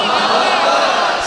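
A crowd at a religious gathering shouting "Allahu Akbar" together in reply to a speaker's slogan, a loud, sustained massed roar of voices.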